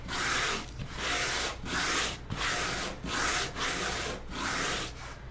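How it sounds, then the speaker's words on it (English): Rough 60 grit sandpaper scrubs back and forth across a painted wood board in about six rhythmic strokes, each a close, loud, gritty rasp with brief pauses between. "I have a rough grit sandpaper here"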